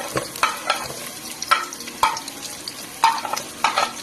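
Onion fries in a pan for adobo, a constant sizzle under repeated sharp scrapes and clatters of stirring at irregular moments.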